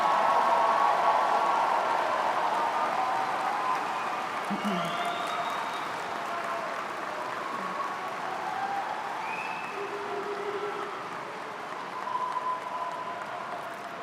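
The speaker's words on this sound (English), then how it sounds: "Let's give a great round of applause to our master's graduates." Applause for master's graduates fills a spring commencement hall, continuous clapping that gradually thins, with occasional voices and whistles rising over it.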